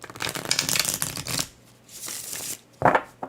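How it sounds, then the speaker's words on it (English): A deck of cards is riffled and shuffled close by, a long crisp flutter followed by a softer one and a brief snap at the end. "And these shuffle really well."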